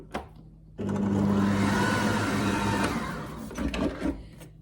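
An electric mixer starts up and runs steadily, beating butter cookie dough with hazelnuts, raisins and chocolate after baking powder is added; a close, continuous motor whir holds level for several seconds and then stops.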